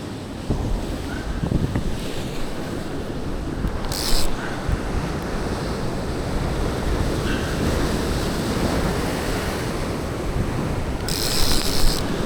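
Ocean swell surges onto a rocky fishing ledge in a continuous loud roar of waves and rushing water, heavy with wind buffeting the microphone and no talking.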